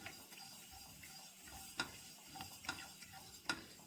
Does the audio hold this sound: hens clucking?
no